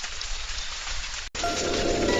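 Steady, dense rain pours down in a stormy night, loud and close, a continuous hiss of drops with a brief dropout partway through before the downpour resumes even heavier.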